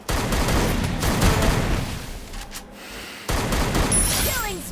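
Gunfire in the video game Free Fire: bursts of rapid shots, fairly close and loud, with a short lull before another volley.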